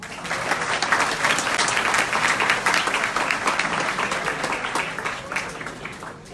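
Sustained audience applause at the close of a session on eSocial for condominiums, a dense, fairly loud wash of many hands clapping throughout.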